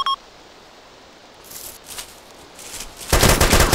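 Automatic machine gun fire in the Arma II military shooter, mostly faint scattered bursts that turn into a loud, dense sustained volley near the end.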